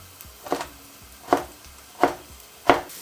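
A knife chops food into sticks on a board for chili con carne in four crisp, evenly spaced strikes, close and clear against a quiet background.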